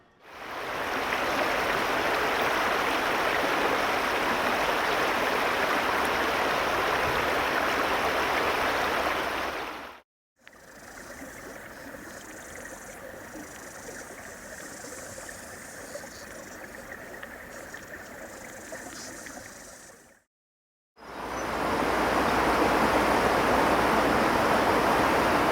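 Stream water at Glacier Rock in Inman Valley, a continuous broadband rush and babble that holds steady in three long takes separated by brief silences.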